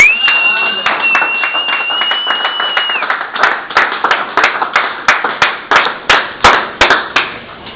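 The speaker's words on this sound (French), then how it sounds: "Si j'étais vous, moi j'acclamerais." A church congregation claps and applauds, with rhythmic clapping growing steadier and more emphatic toward the end, and a sustained whistle-like tone sounds over the first few seconds.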